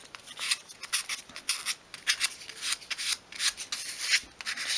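A file rasps a slight bevel onto a 1/12 scale miniature wooden three-drawer sideboard in a series of short, close, rhythmic strokes. Each stroke makes a dry scratch, with brief pauses between them.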